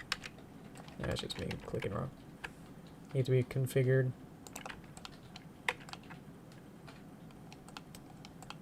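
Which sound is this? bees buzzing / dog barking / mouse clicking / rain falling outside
mouse clicking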